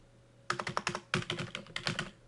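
Quick clusters of crisp key clicks on a computer keyboard as a translation is typed, three close bursts of rapid keystrokes separated by short pauses over a faint background hum.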